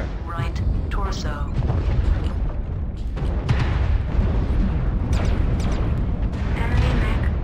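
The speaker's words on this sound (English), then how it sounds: "Enemy mech destroyed." A mech blows up in MechWarrior Online, heavy booming blasts and rumbling debris rolling on continuously at close range, with a synthetic cockpit voice calling out over the noise.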